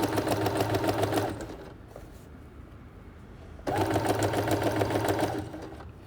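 A sewing machine fitted with a rolled hem foot stitches fabric in two bursts of fast, even needle chatter, close up, with a quiet gap between them.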